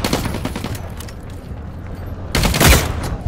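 Gunfire in the sci-fi shooter The Cycle: Frontier: a loud, close volley of shots at the start, a quieter lull, then another heavy burst of firing near the end.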